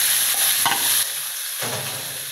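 Squid sautéing in a pan with tomato, onion and garlic for adobong pusit, a steady loud sizzle with stirring scrapes, close and without talk.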